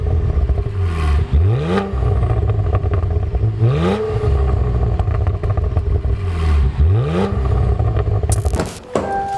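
Cadillac CT4-V Blackwing exhaust revved three times in succession, each blip swelling into a loud rising roar and falling back to a rumbling idle, with a brief clattering burst near the end.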